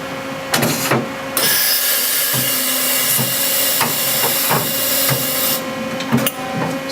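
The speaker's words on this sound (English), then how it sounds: "So now all we have to do is go ahead and ATC cycle." Mori CNC mill's automatic tool changer cycling, a loud mechanical hiss and whir with rhythmic clunks and knocks as the spindle and magazine tools swap, close and steady throughout.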